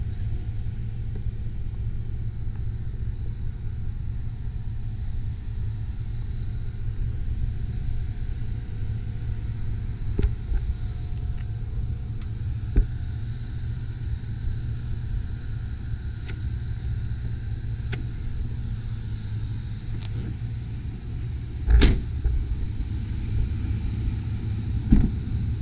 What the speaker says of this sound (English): Engine's running smoothly.